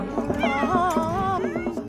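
A cat in The Sims 4 meows in a long, wavering, sung melody, close and clear, holding steady pitched notes for nearly two seconds.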